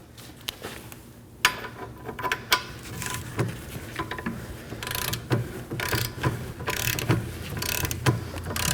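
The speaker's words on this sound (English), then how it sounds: "And now this one, we're gonna torque it to 115 foot-pounds." A torque wrench tightening a rear brake nut on a 2011-2016 Kia Optima, a series of mechanical ratcheting clicks and metallic clatter at close range, no talking.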